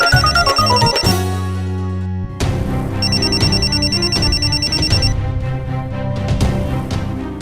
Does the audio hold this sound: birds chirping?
no